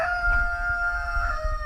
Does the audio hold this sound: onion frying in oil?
no